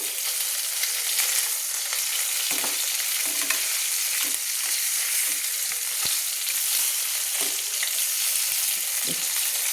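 Bata fish frying in oil in a pan produces a loud, dense, continuous sizzle heard up close, with occasional faint taps and shifts as pieces are turned; no speech.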